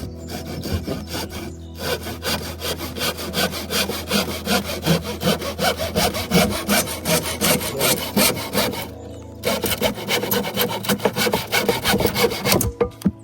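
A wooden board is hand sawn in half outdoors, with fast, steady back-and-forth rasping strokes, loud and close, that pause briefly twice and carry on with no talking.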